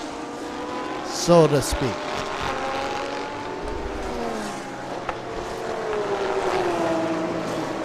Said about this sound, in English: All eyes on the number 11 NSX from Honda camp. VTEC just hit,